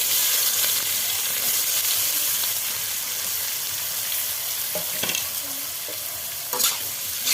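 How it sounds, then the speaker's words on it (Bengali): Onions frying in white oil in a wok give a steady, loud, bright sizzle throughout, broken by a few scraping stirs near the end. "এবার পেঁয়াজগুলো দিয়ে দিলাম"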